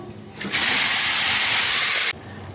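Cut bottle gourd goes into a hot pan of oil tempered with radhuni and sets off a loud, sudden burst of sizzling hiss that runs for about a second and a half and then stops abruptly.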